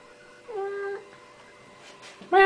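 A Siamese cat meows twice nearby, a short sustained call followed after a pause by a louder, sharper cry starting at the very end.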